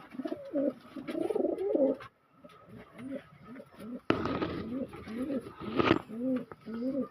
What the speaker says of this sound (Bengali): পায়রাটার গোমরানি দেখতেই পাচ্ছেন আপনারা